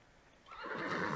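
A horse in the video game Cowboy Life Simulator gives a loud, close whinny that swells in after a quiet start and holds through to the end, with no talk over it.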